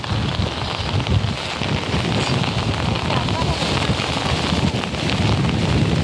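Strong wind on Jeju island buffeting the microphone in a seaside spot, a continuous loud roaring rush with no breaks throughout.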